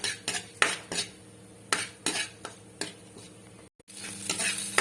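A few fenugreek seeds fried briefly in a pan, with a soft sizzle under several metallic clinks and scrapes of a utensil against the pan, close by and with no voices.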